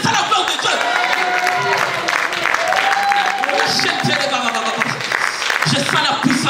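Church congregation applauding and cheering continuously in praise of God, a dense steady wash of clapping and voices filling the room, with a leader's voice carrying over it.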